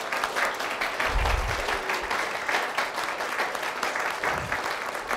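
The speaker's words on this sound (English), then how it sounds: "Please give both gentlemen a round of applause." Applause for two gentlemen after a talk on the Cold War at the Richard Nixon Presidential Library, an audience clapping steadily and evenly for the whole stretch, moderately loud, with no speech.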